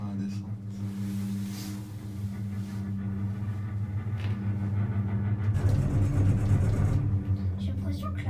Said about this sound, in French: Mais papa, la télécabine, c'est électrique ou ça descend comme ça?